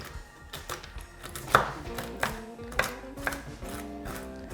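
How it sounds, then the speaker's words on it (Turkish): A large knife crushing a handful of almonds on a board, a series of sharp irregular knocks and crunches with faint background music underneath. "şu bir avuç bademi iri bir bıçakla ezeceğim"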